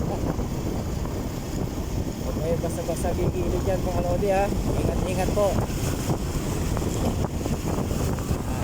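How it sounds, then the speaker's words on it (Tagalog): Steady roaring wind buffeting the microphone, with someone talking over it and faint squeaky tones in the middle. "Lakas ng hangin"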